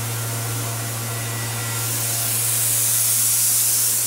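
Compressed air hisses steadily from an Everlast Power Plasma50 plasma cutter, a loud continuous rush over a low electrical hum that swells slightly toward the end, with no talking.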